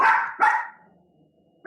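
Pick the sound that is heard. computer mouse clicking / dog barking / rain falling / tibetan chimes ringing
dog barking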